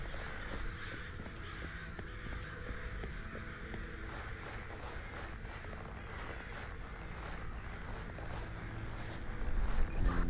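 Crows caw in the video game We Were Here Forever, repeated harsh calls scattered through the middle of the clip over a dense, droning ambient background, fairly faint and partly buried.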